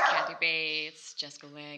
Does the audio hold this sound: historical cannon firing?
no